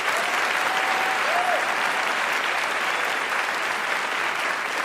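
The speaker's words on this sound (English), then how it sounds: "Just a round of applause." A debate audience applauding, dense, continuous clapping from a large crowd that holds at an even level throughout, with a faint whistle-like tone briefly near the start.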